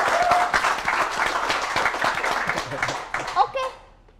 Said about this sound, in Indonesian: Tepuk tangan dong buat kreatif